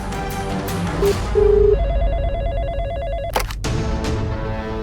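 Telephone ringing on a call to a news channel, a loud electronic warbling ring repeating over a steady background hum, with sharp clicks as it ends.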